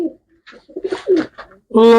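Soft pigeon coos and murmurs sound nearby, ending in a louder, drawn-out cooing call.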